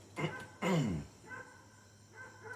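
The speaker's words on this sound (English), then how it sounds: "she hears the other dogs barking" A couple of dog barks sound at moderate distance, one short yip then a longer bark, followed by quieter background noise.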